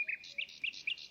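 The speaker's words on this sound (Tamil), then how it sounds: "ரொம்ப அழகான குருவிகள் சத்தமெல்லாம் கேட்குது" Sparrows chirping in a calm natural setting, a quick series of bright, high tweets in short repeated bursts, fairly close and clear over a quiet background.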